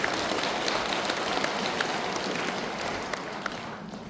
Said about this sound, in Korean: 찬탄의 축하 박수를 부탁드립니다